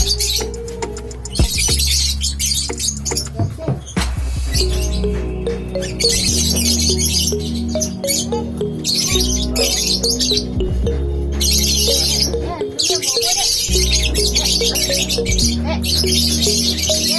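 Lovebirds chirp and tweet in quick, repeated calls close by, over a steady busy background with children playing.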